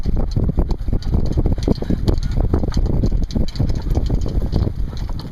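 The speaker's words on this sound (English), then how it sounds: "Wind's picked up a little" Strong wind buffets across a sailboat on the way to Chicago, a dense, continuous rumbling roar with gusty low-end thumps, loud and close, with no one speaking.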